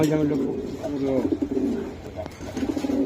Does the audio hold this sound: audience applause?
no